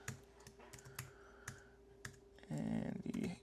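Keystrokes click on a computer keyboard as a name is entered, a few spaced taps followed by a quick, louder burst of typing near the end, close and otherwise quiet.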